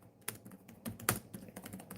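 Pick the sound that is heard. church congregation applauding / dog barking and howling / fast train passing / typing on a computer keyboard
typing on a computer keyboard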